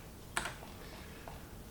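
A computer keyboard during coding work gives off one sharp, faint key tap, followed by quiet room tone.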